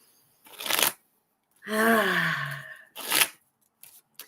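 Tarot cards shuffled by hand in two short papery bursts. A drawn-out voiced hum or moan with falling pitch sits between them.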